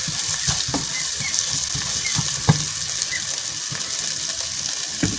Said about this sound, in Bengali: এখন আমি আবারও নেড়ে চেড়ে নিচ্ছি যেন ডাল মশলা গরম তেলের সঙ্গে খুব সুন্দরভাবে অ্যাড হয়ে যায়